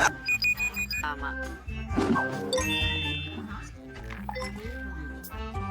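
A kitchen timer rings in a quick run of bright repeated pulses at the start, then fades under continuing talk and kitchen clatter.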